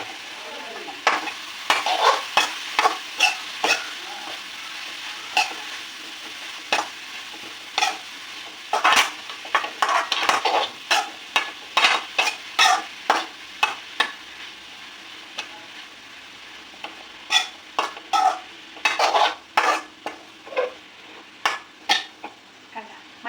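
Vegetables with salt and turmeric fry in a pan, a steady sizzle broken by many quick, sharp scraping strokes of a spoon against the metal, some in fast clusters.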